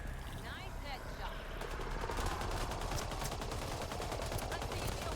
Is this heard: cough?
no